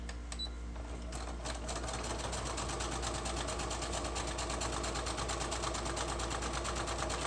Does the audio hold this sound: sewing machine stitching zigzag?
yes